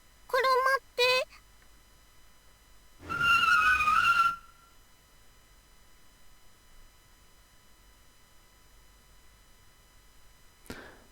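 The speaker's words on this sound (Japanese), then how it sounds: "ミルク止まって、車が来て" Car skidding to a stop at a crosswalk in a visual novel, a loud tire screech lasting about a second, preceded by brief voiced exclamations and followed by quiet.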